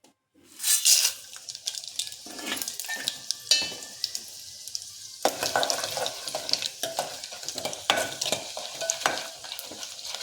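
Mustard seeds and cumin, with chana dal, urad dal and dried red chillies, fry in hot oil as a tempering for upma, a loud, steady sizzle with scattered pops and a spoon stirring through the pan.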